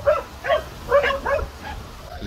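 Dogs fighting and barking at another dog that has invaded their territory, heard as several short barks at a moderate distance.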